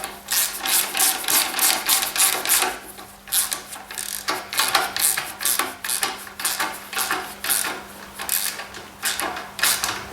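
A bolt being tightened on a Dirty Pro Tools cement mixer during wheel assembly, with a close, busy run of metallic ratcheting clicks and clanks repeating steadily throughout.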